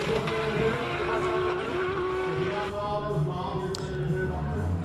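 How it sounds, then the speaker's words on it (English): A GTR-bodied space-frame hillclimb car with anti-lag roars at a distance, its engine droning and rising with harsh crackles as it pulls away up the course. "Gosh, that anti-lag goes through your core when it kicks"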